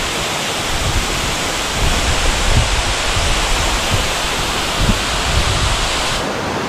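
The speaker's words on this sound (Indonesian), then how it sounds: "Air terjun Wardo." Wardo waterfall on a river in Papua pours with a loud, continuous, dense rushing roar that stays steady throughout, with no voices over it.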